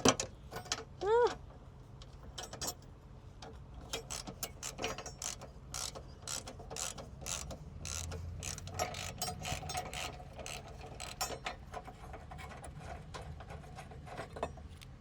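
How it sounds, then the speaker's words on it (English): A ratchet clicks in rapid, uneven bursts as a bolt is unscrewed while a car horn is changed. It is close and fairly quiet, with a brief squeak near the start and no talk. "Because this bolt isn't rusted or anything. Yeah, it's coming out."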